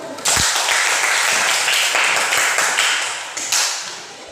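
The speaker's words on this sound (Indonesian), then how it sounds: "Tepuk tangan dulu" A room of people clapping together, brisk and steady, swelling briefly near the end before tapering off, with a few sharper taps standing out.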